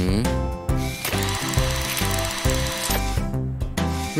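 A wrench ratcheting on a broken hubcap in a cartoon for kids, a quick series of loud mechanical clicks and whirring tool bursts over bright musical backing.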